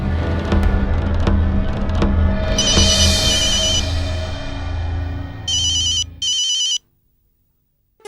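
A telephone rings with a bright electronic ringtone over background music from a Hindi TV drama scene. The ring repeats in short bursts, then cuts off abruptly into silence.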